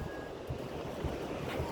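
Ocean waves at Sugba Lagoon rolling and washing in a steady, broad rush, with low surges and some wind noise on the microphone.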